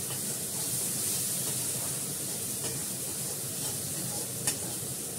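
Masala fries in oil in a pan with a steady, close sizzle and hiss, stirred now and then with faint scrapes and a small knock near the end, no voices over it.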